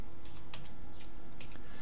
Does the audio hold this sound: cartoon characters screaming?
no